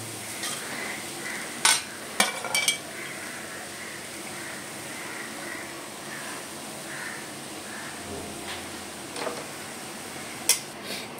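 Fenugreek leaves (methi) and onion being stirred in a pan for bhaji, a soft continuous sizzle with a few sharp metallic scrapes and clinks of a spoon against the pan, close by.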